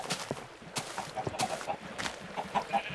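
Chickens cluck in Minecraft, a few birds trapped in a chicken farm making short, repeated clucks and squawks close by, with faint blocky footsteps between the calls.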